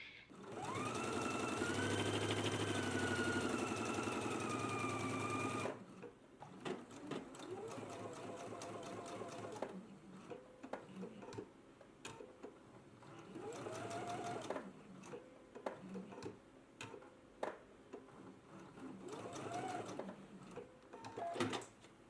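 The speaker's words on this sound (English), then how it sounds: "So we need to do an ease stitch, 1/4 of an inch from the raw edge right here along these curves." Sewing machine running an ease stitch a quarter inch from the raw edge along curved fabric pieces for pants, first as a loud steady whir for about six seconds, then quieter intermittent stitching bursts while someone talks.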